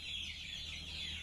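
A chicken suffering from a snoring respiratory illness clucks steadily and faintly, a continuous raspy tone running through the brief moment with no one speaking.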